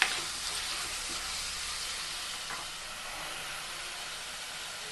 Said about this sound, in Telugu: ఆయిల్లో ఫ్రై చేసుకోవాలి. ఆనియన్ లైట్ బ్రౌన్ వచ్చే వరకు ఫ్రై చేసుకోవాలి.